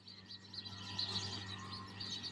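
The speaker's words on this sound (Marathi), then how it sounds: "चिमण्या किती बसल्या झाडावर." Sparrows chirp busily from a nearby tree, overlapping high tweets continuing without pause over a low background hum.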